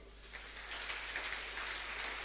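A church congregation bursts into applause during a Spanish-language sermon. The clapping is broad, steady and fills the room from start to finish, with no talking over it.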